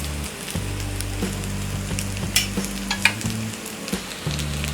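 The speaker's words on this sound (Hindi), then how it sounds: "राइस और मसाला डालने के बाद हमने गैस ऑन कर लिया है और इसे 2 मिनट तक फ्राई कर लिया है" Potato masala rice sizzles steadily in a pan on a gas stove, with scattered scraping stir strokes and small pops over the continuous frying hiss; no voices.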